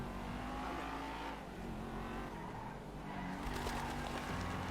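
A car driving in GTA 5, its engine droning steadily with a rise and a tyre scrape near the end, heard close without talk.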